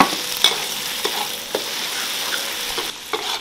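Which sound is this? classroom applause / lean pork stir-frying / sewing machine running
lean pork stir-frying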